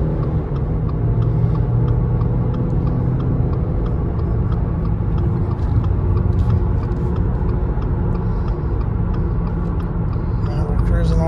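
A 2020 Subaru Impreza's engine hums steadily under light throttle while driving, a continuous low rumble with road and wind noise, no distinct rise or drop, and a voice talking over it.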